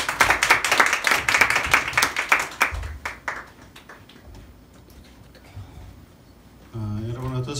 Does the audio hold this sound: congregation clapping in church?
yes